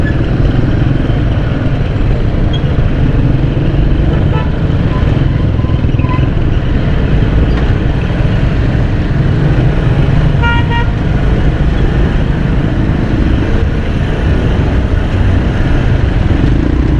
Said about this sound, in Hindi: नीपा चुरंगी आने वाली है और ट्रैफिक बहुत ज़्यादा यहाँ पर जाम है।